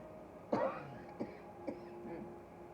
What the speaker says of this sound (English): Now I'm going to get ready to start coughing